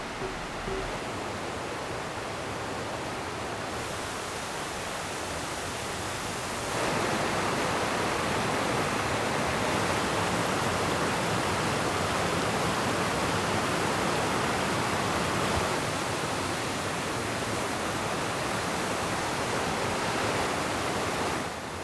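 A waterfall, Njupeskär in Sweden, feeds a white water stream reached by a wooden staircase; a steady broadband rush of falling and churning water fills the whole clip, close and loud, swelling further after the first few seconds.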